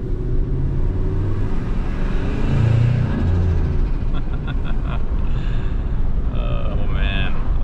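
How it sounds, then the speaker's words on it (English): A stock Ford Triton 5.4L pickup with a single turbo at 12 psi accelerates with a loud, close engine rumble, then a series of sharp hissing chirps and whooshes from the blow-off valve near the end, with a voice briefly audible. "We're about to accelerate again real quick here, just to hear that blow off valve."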